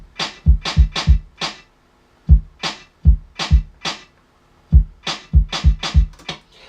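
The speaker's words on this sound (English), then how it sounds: "I also lifted a kick and a snare and put a real basic," A rough, sampled kick and snare pattern from an MPC plays a loose, basic beat: punchy low kicks and crisp snare hits in repeating bursts with brief pauses, dry and upfront with no voices.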